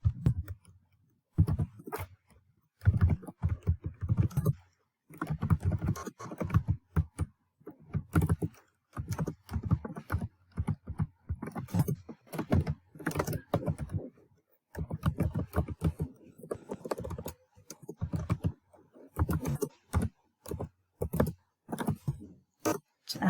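Typing a question on a computer keyboard: quick, irregular clusters of key clicks close to the mic, in bursts separated by short pauses, with no talk over them.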